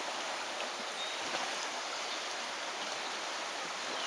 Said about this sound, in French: Je vous présente plus la Sioule, une magnifique rivière